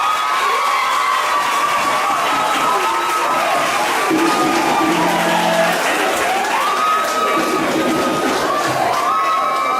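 A crowd of children cheering and shouting at a school house event, a loud, continuous wash of young voices with whoops rising and falling throughout.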